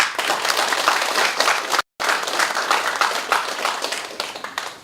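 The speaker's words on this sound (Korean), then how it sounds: "우리 시의원님들을 위해서도 박수 한번 쳐주시죠." An audience at a city administration meeting in Buknae-myeon claps for the city councilors: dense, steady applause from a crowd, briefly cut off mid-way, then continuing.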